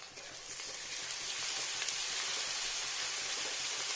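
Slit green chillies frying in oil as the base for a Bengali mrigal fish soup, a steady, fairly quiet hiss of sizzling with no talk.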